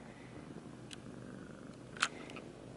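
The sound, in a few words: cat purring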